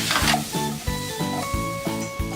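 Sake splashed into a pan of German potatoes with bacon, garlic and pepper sets off a loud sizzle, followed by a run of rhythmic stirring scrapes, close up with no talk.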